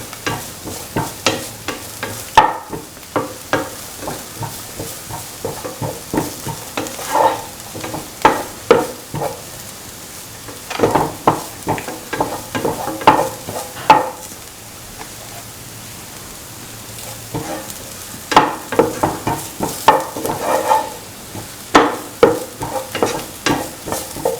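Onions frying in a pan and being stirred for a potato and coconut milk scrambled egg stir fry, with a steady sizzle and repeated scraping strokes throughout.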